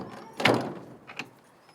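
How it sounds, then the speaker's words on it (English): An indoor door pushed shut, one muffled thud followed by a softer second knock as it settles, close by in a quiet room. "Laura, you want to shut that door real quick?"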